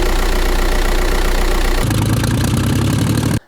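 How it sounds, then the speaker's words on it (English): A Ford Mustang engine runs rough at idle with a loud, steady, clattering drone like a diesel, close up, then cuts off abruptly at the end. "this engine is not running as smooth as it should be"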